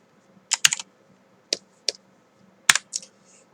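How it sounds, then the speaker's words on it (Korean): Comma and period keys pressed on a computer keyboard, a handful of crisp isolated clicks in small clusters separated by pauses, close and clear against a quiet background. "어떤 작업을 하다가 화면 확대 축소를 하려고 콤마와 마침표를 누르면 이렇게 계속 나오게 되는 거죠"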